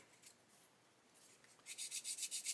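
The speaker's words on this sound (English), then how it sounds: "grab a 400 grit sanding stick and just very, very lightly sand away" Quiet, light sanding strokes with a 400-grit sanding stick on 3D-printed 1/16 scale model tank tracks, faint at first, then a steady run of soft rhythmic rasping passes close by.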